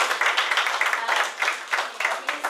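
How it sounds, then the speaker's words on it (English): A small group claps in a round of applause at a live community gathering. The claps come as quick, fairly close bursts, steady for a couple of seconds, with no voices over them. "I'm going to give Chris a big round of applause for all the help that he gives us in the community."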